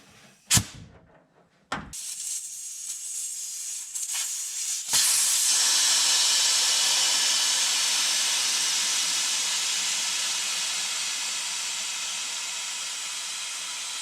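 Compressed air hisses loudly and steadily through a Schrader valve into the rear four-link air suspension of a Packard Cavalier, after a few short clunks and bursts, then a long sustained rush that slowly fades.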